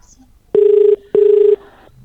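An outgoing call to a political leader in Bengal rings twice on the telephone. The two loud, even, buzzing ring tones are each just under half a second long and separated by a short gap, with a faint hiss between them.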